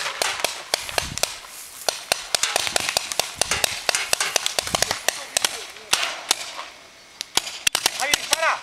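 Paintball markers fire during an outdoor paintball game, sharp snapping pops in rapid irregular bursts, some close and loud, with people shouting over them.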